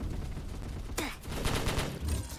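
Rapid gunfire from a firearm in the Roblox game Base Battles, a dense burst of shots with a sharp sweeping crack partway through, fairly close and continuous.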